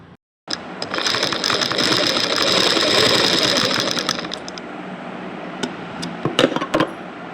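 A sewing machine stitches a blouse in a fast, steady mechanical whir that runs for several seconds, close and loud, then stops and gives way to a few short bursts and clicks.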